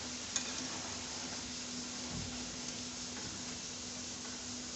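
French fries fry in hot oil as a spoon stirs them, producing a soft, continuous sizzling hiss with a faint scrape partway through, fairly quiet and without voices.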